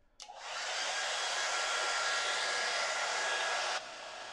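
A hair dryer blows steadily on a wet watercolour painting, switching on with a click, holding a loud, even whooshing roar for about three and a half seconds, then dropping to a lower setting.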